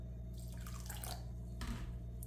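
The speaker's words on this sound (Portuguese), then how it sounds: "Aqui eu vou colocar mais água." Water pouring and dripping into a sandy, damp mixture, a steady trickle with splashy drips over a low background hum, with no voices.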